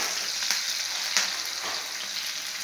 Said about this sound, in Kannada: ಈರುಳ್ಳಿ ಹಾಕಿ ಫ್ರೈ ಮಾಡ್ತಾಯಿದ್ದೀವಿ.